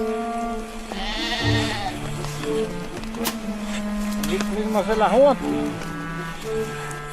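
Sheep in deep snow in the Austrian Alps bleat a few times during a snowstorm rescue, wavering calls rising over steady background noise and a narrating voice.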